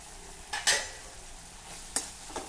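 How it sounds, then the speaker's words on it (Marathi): Green chillies cooking in oil and water in a pan, with a soft, steady sizzle close up and a few sharp clinks and scrapes of a spoon against the pan, and no talking. "यावर झाकण ठेवू आणि मंद गॅसवर 2 मिनिट ह्या मिरच्या शिजवून घ्यायच्या आहे."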